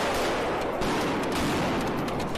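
Protesting teachers set off firecrackers at police during a street clash, a dense, continuous crackle of rapid bursts that sounds loud and close.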